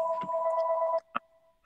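A phone ringing in the background, a steady electronic tone that cuts off after about a second, followed by a single soft knock.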